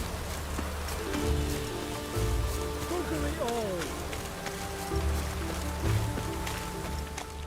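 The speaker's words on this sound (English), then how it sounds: "Looks like rain." Rain pattering on surfaces in The Witcher 3 video game, a constant hiss of drops under muffled engine-like tones and occasional low thumps.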